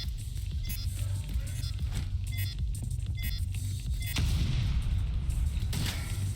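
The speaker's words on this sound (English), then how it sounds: "now get clear before it detonates" An explosive detonating in the shooter The Division 2, heard as a sustained rumbling roar with a sharper burst partway through, mixed with scattered gunfire-like cracks and surrounding game noise.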